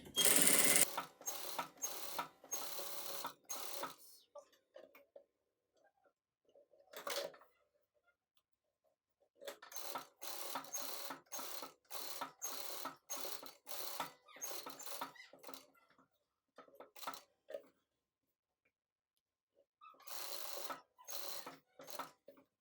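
A sewing machine stitches a seam in a Kazakh patchwork quilt, running in bursts of rapid needle chatter with pauses between runs, moderately loud and close.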